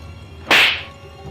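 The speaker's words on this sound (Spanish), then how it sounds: "le propinó una fuerte bofetada" A single sharp slap to the face, a loud crack that rings out briefly and fades, with nothing else around it.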